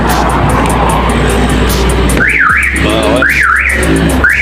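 A car alarm on a Mitsubishi Montero goes off after a shock sensor test, its loud, close siren rising and falling in quick repeated sweeps over a running engine, with a brief spoken word.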